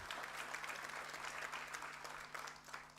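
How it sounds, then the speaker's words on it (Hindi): Applause from an audience at a training session with Shri Arjunram Meghwal, steady dense clapping sustained throughout, fairly distant and moderate in level, with a faint low hum underneath. "रितेश गवांडे के नाम पे जोरदार ताली तो बजाइए आप।"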